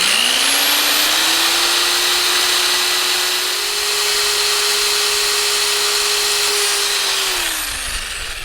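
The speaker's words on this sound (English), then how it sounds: "Now I'm going to carefully drill through the center." A power drill bores through a plastic part with one steady, high whine that rises as it starts, holds close and loud for several seconds, then winds down.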